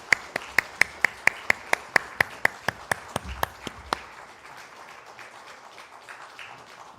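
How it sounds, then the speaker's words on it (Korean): A church congregation claps during a Sunday service: a single slow, rhythmic clap pattern of about fifteen evenly spaced, close, sharp claps that stops abruptly after four seconds, followed by quiet room tone. "박수 올려드리겠습니다."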